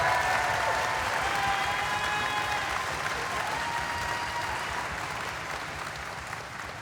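A concert audience applauds mandolin and lute players with steady, dense clapping that holds at full strength and then fades gradually toward the end.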